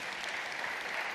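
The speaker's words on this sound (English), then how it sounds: "I hope you're going to get a great round of applause for being here" A short burst of dense, steady applause from a conference audience at a mobile panel discussion, many hands clapping together at moderate volume.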